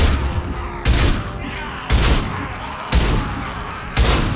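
Heavy gunfire in Mass Effect 2 booms out as five loud, evenly spaced blasts, each one dying into a rumbling tail, up close and dominant.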